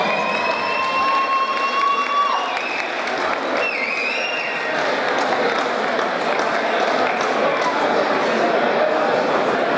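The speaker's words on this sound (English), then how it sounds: "let's have a round of applause for both of those guys" A crowd at a Swindon fight club bout applauds and cheers for two fighters, the sustained clapping and whoops filling the room loud and close, with an announcer's voice carrying over the noise.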